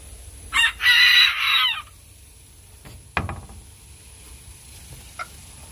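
A rooster crows loudly once, followed by a few soft clucks and scattered farmyard noises nearby.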